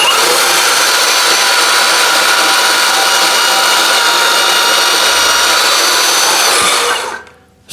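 A VEVOR 20V portable band saw runs loud and steady at close range while cutting, a sustained whining buzz that cuts off abruptly near the end.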